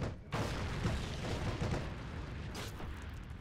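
Heavy cannon blast and rumbling impact from a tank shell striking the player in the World War II shooter Heroes and Generals, a loud boom near the start followed by sustained roaring battle noise and a second burst.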